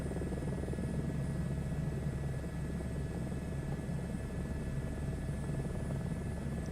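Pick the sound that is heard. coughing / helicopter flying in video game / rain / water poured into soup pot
helicopter flying in video game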